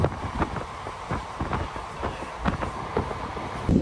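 Express train from Nandyal to Guntur rushing along at high speed near Gajulakonda station, a steady rumbling roar with repeated rhythmic clatter of wheels over rail joints and wind noise throughout.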